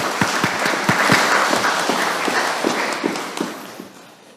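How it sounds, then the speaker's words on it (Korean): Church congregation applauding during an Easter Vigil Mass, a steady wash of many hands clapping that stays loud for a few seconds and then thins out slowly. "하느님께 감사하는 마음으로 박수 부탁드립니다."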